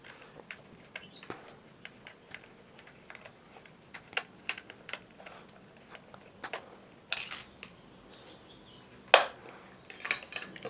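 Screwdriver opening the plastic back cover of a 13-channel RC excavator toy, a string of small clicks, taps and scraping ticks at close range, irregular and quiet with a few sharper snaps near the end, no talking.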